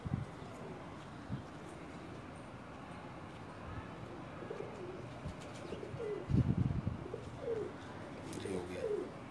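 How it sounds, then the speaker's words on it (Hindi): Rampuri pigeons, an Indian breed, coo on a rooftop loft in soft, repeated throaty phrases, with a few brief chirps and a louder burst of cooing near the end. Faint background murmur runs throughout. "ये तो रामपुरी कबूतरों में से हैं, इंडियन ब्रीड से"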